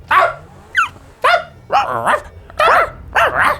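A human voice imitates a terrier barking, producing a series of short, nasal yapping barks in an uneven rhythm, close and loud with brief pauses between them.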